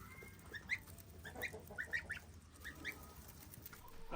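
Young goslings call on a farm with several short, high peeping honks scattered over a few seconds, faint and fairly close against a low background rumble.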